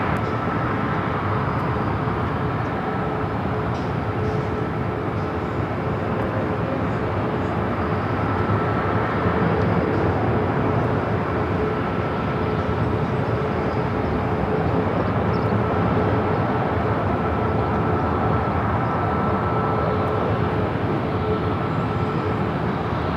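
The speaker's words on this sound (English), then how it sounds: "Virgin Flight 7, the A350-1000 coming from London Heathrow." Virgin Atlantic Airbus A350-1000 arriving at Los Angeles International Airport from London Heathrow, a steady, continuous broadband jet roar throughout, moderately loud and unbroken, with no voices.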